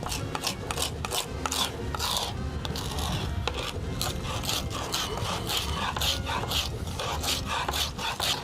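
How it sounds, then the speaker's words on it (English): A kitchen knife rubbed back and forth on a cutting board to grind ingredients into a coarse paste for flounder sliders, giving a steady, close rasping scrape that repeats rhythmically throughout without any speech. "I'm just literally just rubbing my knife back and forth."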